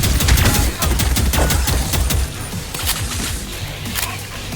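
Rapid, loud gunfire from the video game Wrack Reclamation, with dense bursts of shots in quick succession that ease slightly in intensity toward the end.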